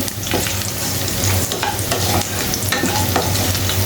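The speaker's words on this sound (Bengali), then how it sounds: "পেঁয়াজ কুচি দিয়ে দিচ্ছি" Chopped onion and goat meat frying in a pan for a village-style curry, a loud steady close sizzle with frequent stirring scrapes and clatter.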